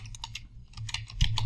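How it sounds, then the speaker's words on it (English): Keys tapped on a computer keyboard in bursts, crisp close clicks with a brief pause midway and a slightly louder thump near the end, no voices. "I'm just going to type in"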